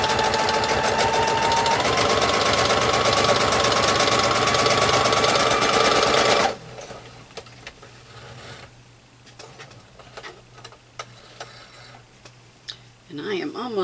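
A home sewing machine runs in a steady, fast, loud stitching whir while sewing sashing strips onto a quilt block. It stops abruptly about halfway through, leaving quieter handling clicks and rustles.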